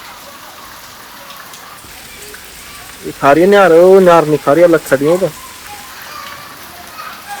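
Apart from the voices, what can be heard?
rain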